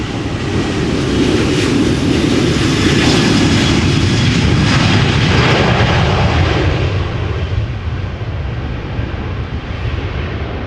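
A 23-year-old KLM Boeing 737 jet airliner departing Amsterdam Schiphol Airport gives a loud, steady, broadband engine roar that fills the whole clip and eases slightly toward the end.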